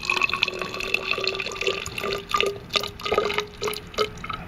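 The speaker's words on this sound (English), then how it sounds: "I'm going to pour the liquid." Blue-colored water being poured into a glass graduated cylinder, giving a close, continuous splashing trickle with bubbly, rising gurgling tones as the cylinder fills.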